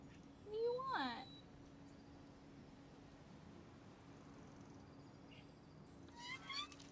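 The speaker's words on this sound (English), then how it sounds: "My cat is whining at me." A house cat whines with a rising, wavering meow near the start and another fainter, drawn-out cry at the end, over a steady low hum and background noise.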